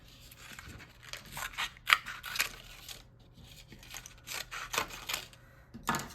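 Scissors cut through a paper plate for a craft necklace, a close series of crisp snips and crunches in uneven bursts with short pauses between them, no voices.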